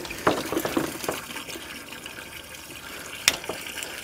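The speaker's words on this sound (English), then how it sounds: "Always leave water running down through there to wash your cables off." Water runs down into a sewer line to rinse drain-cleaning cables, a soft trickling and splashing flow with a few brief louder spatters and clanks over a quiet background.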